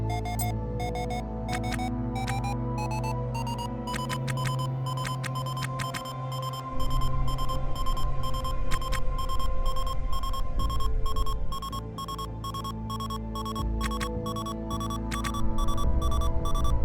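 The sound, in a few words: proximity alarm in video game Ostranauts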